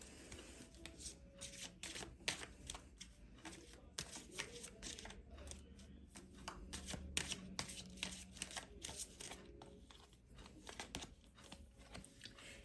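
Angel guidance cards are shuffled softly and continuously, a quiet papery riffling and crinkling with small taps throughout.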